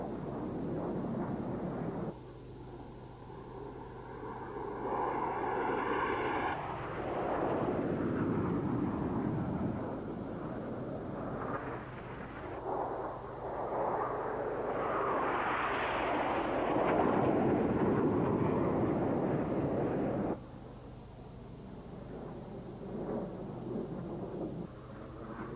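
Red Arrows jets perform in an air display at the Royal International Air Tattoo at RAF Fairford, a loud roaring rumble that swells and recedes as the formation passes, with a distant high whine at times.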